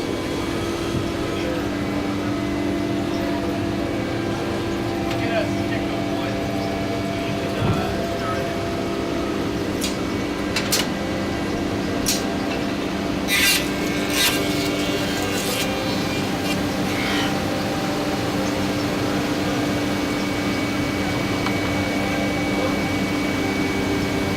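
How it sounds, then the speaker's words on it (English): An edge bander machine in a carpentry and cabinetmaking shop runs with a continuous mechanical hum and drone while applying edge band and trimming it to width and length, with intermittent clicks and knocks from the trimming. "by using the edge bander, it puts on this edge band, cuts it to width, cuts it to length"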